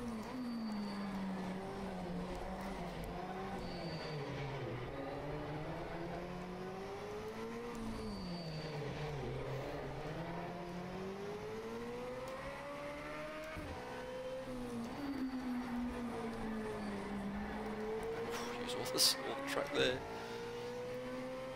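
A Fiat mid-engine, rear-wheel-drive race car in rFactor 2 on an early-morning hill climb up Col St. Pierre. The engine drones steadily, its pitch rising and falling through gear changes and corners, with a brief spoken word near the start.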